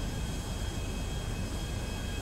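An airplane engine drones in Grand Theft Auto V, a steady dense roar with a rough chugging texture, heard alone and without pause.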